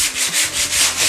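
Wood being hand-sanded while fitting out a home florist's atelier, a close, loud, rhythmic rasp of back-and-forth strokes repeating steadily about every fifth of a second with no talking.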